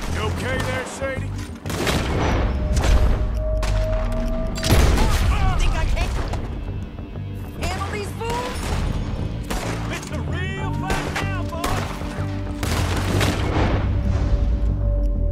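Gunfire in Red Dead Redemption 2 during a fight against an army: dense, loud volleys of shots and booming blasts in rapid succession, with voices talking over the battle throughout.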